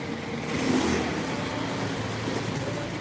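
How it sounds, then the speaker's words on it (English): Traffic idles and creeps along a jammed street in Phnom Penh, Cambodia, a nearby engine swelling briefly before settling into a steady rumble of vehicles. "Oh, another traffic jam, guys."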